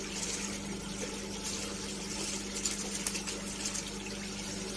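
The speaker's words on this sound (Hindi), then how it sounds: "तो ये देखें पानी हमारा उबल रहा है।" A pot of water heats to a rolling boil before rice goes in for Karachi chicken biryani, giving a steady bubbling, gurgling churn with small pops, close and moderately loud, with no talking.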